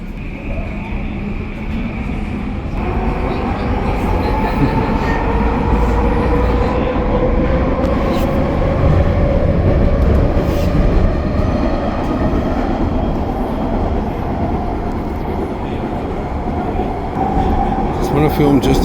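A metro train runs at a station near Metrotown in Burnaby with a steady, loud rumble and rolling rail noise throughout, plus a faint rising whine, under occasional voices.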